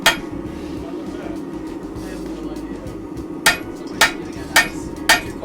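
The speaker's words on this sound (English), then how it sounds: "we're about halfway through forging out a knife" Hammer blows on an offset serrated knife blade during forging, four sharp metallic strikes spaced about half a second apart near the end, after a stretch of low workshop rumble and background noise.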